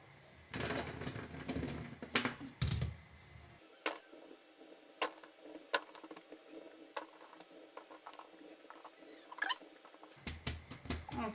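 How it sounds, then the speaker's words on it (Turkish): Cleaned cherries poured into a tray before freezing, heard as a rattling patter of small fruit tumbling in bursts, with clatter at the start and end and a quieter stretch between. "Dondurucuya koyacağımız kirazlarımı da temizledim. Şöyle bir tepsinin içine dökeceğim."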